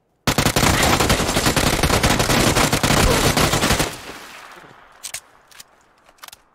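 Sustained rapid automatic gunfire rattles loudly in a video game shootout for about four seconds, then fades into a few scattered distant shots.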